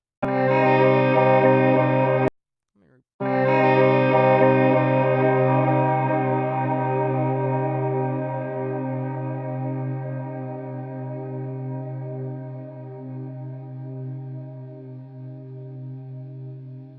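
A sustained electric guitar drone, smeared and stretched with heavy effects, cuts out briefly near the start, then swells back and slowly fades as it rings on.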